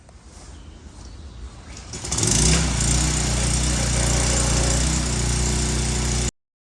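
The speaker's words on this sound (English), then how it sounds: "I'm gonna pressure wash it, let it dry out, and see what we get after we pressure wash it." Gas pressure washer rated at 3,100 psi cleaning a wooden deck. A low engine drone rises sharply about two seconds in to a loud, steady roar with a hissing spray, then cuts off abruptly.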